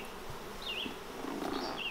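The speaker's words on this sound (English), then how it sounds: "Lots of bees on both sides." Honey bees buzz around a double nucleus colony hive, a steady, fairly quiet hum of many insects with individual bees whining past close by, no talking.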